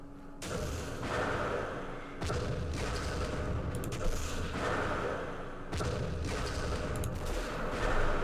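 Machine gun fire in the Vietnam War strategy game Campaign Series Vietnam: dense, continuous rattling gunfire with loud booming bursts that break off briefly and restart, holding steady loudness throughout.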